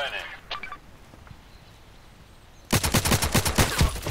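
Rapid automatic gunfire from the online shooter Contract Wars, loud and close as a sustained burst in the second half, after a quieter stretch with a few isolated shots.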